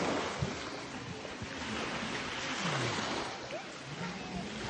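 Sea waves wash onto a beach in a steady, broad rush of surf, with wind buffeting the microphone throughout and no clear voices.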